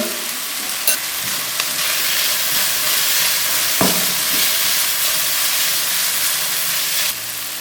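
Half a spoon of white cumin seeds, added after mustard seeds, roasts in a hot pan with steady loud sizzling and occasional stirring scrapes, heard alone without talk.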